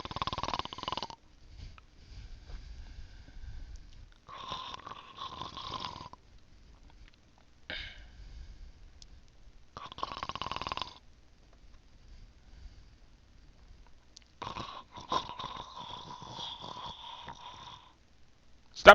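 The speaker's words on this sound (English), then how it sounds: "he's currently snoring" Ticket-booth attendant in the video game Lucid9 snoring: slow, repeated raspy snores in separate bursts with quiet gaps between, fairly soft and alone.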